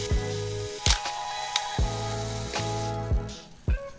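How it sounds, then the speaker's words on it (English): Self-timer lever on a film SLR camera giving several sharp, close mechanical clicks spread over a few seconds, with brief whirring between them. "If you wind the camera and lower the lever, you'll hear a click."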